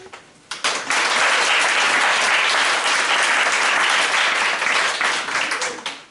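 A church congregation at a Sunday service bursts into loud, sustained applause, a dense roar of many hands clapping that holds steady for several seconds before easing slightly at the end.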